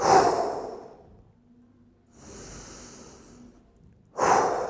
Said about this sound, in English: just take a few deep breaths here